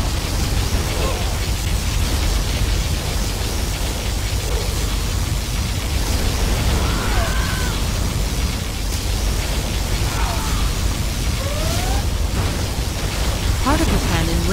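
In a Command & Conquer Generals skirmish, a particle cannon strike produces a steady wash of roaring, rain-like noise studded with faint pops and explosive bursts.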